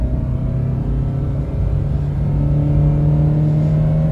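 A Hyundai Venue diesel car accelerates hard in second gear on an open road, its engine a loud, steady droning rumble that builds without a break and with no talking.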